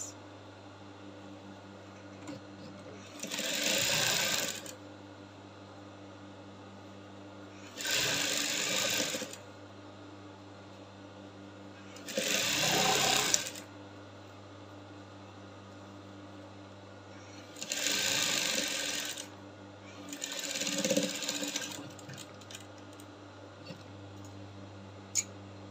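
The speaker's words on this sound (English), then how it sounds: "So I'm done sewing now" A sewing machine stitches bias binding for a cowl abaya in five separate runs of steady whirring, each lasting a few seconds, with a low constant hum between them.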